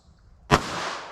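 A single sharp, close .380 ACP pistol shot fired across a chronograph during a velocity test, a loud crack followed by a broad decaying echo.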